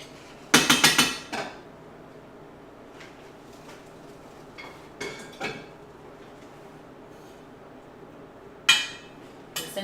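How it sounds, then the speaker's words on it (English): A spoon stirs soup in a metal pot, a few sharp clattering scrapes and clinks in separate bursts with quiet gaps between them. "Give it a stir."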